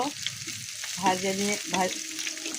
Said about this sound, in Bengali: লবণ দিয়ে ভাজে নিব পেঁয়াজ মরিচ